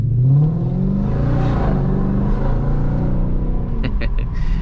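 A Jaguar XF SV8 engine revving: a loud, deep V8 rumble rising in pitch as it accelerates, heard close up from inside the car, with no one speaking.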